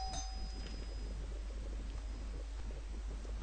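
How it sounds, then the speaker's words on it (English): A doorbell rings once at the start with a short, clear chime whose tone hangs on faintly, over a steady low room hum. "someone rang the doorbell"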